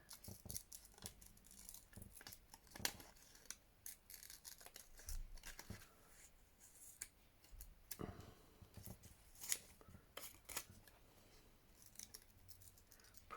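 Scissors with tape stuck on the blades snip fabric repeatedly in quick, irregular bursts of sharp crisp cuts, close and fairly quiet, with brief pauses between runs.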